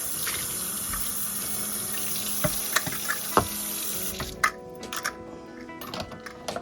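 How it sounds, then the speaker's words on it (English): Tap water runs steadily into a small kitchen sink while a measuring cup is rinsed, a constant close hiss with light clinks and splashes toward the end. "run some water"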